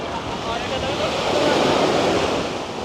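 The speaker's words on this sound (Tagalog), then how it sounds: "Ang lakas ng alon. High tide pa naman." Strong ocean waves crash and surge continuously at high tide on Patar Beach in Bolinao, a loud broadband wash with wind buffeting the microphone and no clear talk.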